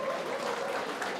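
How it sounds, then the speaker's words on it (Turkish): Guests applaud the newlyweds at a Kurdish-Turkish wedding, a steady wash of clapping over the hall's background, moderately loud and unbroken for the brief moment. "İki çiçeğimize, Kazakistan devletinde doğulan yeni aileye bir güzel alkışlar"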